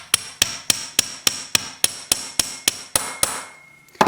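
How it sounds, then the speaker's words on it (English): A hammer pounds the end of a wire flat on a metal bench block: about a dozen sharp, evenly spaced metallic strikes close up, slowing and fading at the end, with no talk. "we're going to use the bench block again and pound the end flat."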